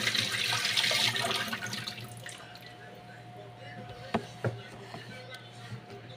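Water runs steadily from a tap while fish is rinsed and cleaned in a kitchen sink, with a few sharp knocks and drips near the end; the flow is loudest early and eases after two seconds.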